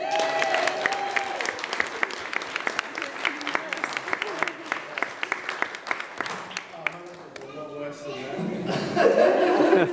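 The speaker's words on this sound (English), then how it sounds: "give him a round of applause" Wedding audience at a best man's speech bursts into applause mixed with chuckles and laughter, dense clapping filling the room with voices underneath, swelling again near the end.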